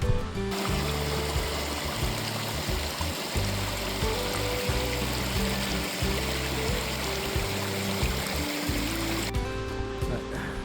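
Steady rushing water roars continuously from a nearby mountain waterfall on the Idaho Centennial Trail, with a low rumble underneath and no voices.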